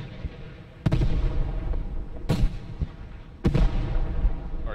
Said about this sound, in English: Artillery is coming down.